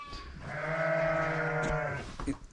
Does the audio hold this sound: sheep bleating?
yes